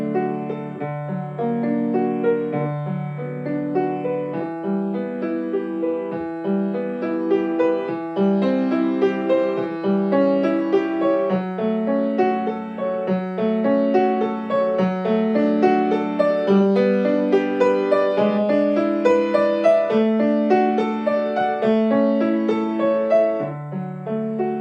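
Piano playing flowing broken chords with sustain pedal, notes ringing together in a steady, continuous pattern at moderate loudness with no voices.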